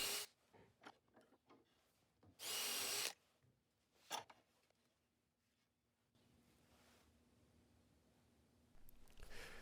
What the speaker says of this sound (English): using here another longer bit to just do pilot holes all the way through the wood